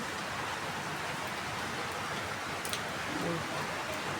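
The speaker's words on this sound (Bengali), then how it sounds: "আজকে সকাল থেকেই বৃষ্টি এখন আবার জোরে নামছে" Heavy rain falling steadily, a dense, even wash of pattering drops that stays loud and continuous from start to finish without pause.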